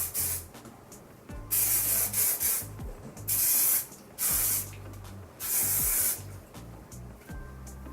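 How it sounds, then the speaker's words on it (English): Several short bursts of medium-hold hairspray hiss onto hair in quick succession, each a second or so long, close and fairly loud with brief pauses between. "I'm just going to spray a little bit on"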